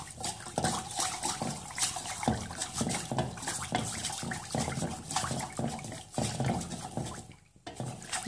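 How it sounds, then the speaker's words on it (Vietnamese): Sugar and water mixture stirred in a pot on the stove, a continuous wet sloshing and swirling with soft repeated scraping strokes, close and steady throughout, with no voices. "Mình quấy cho tan cái hỗn hợp đường này."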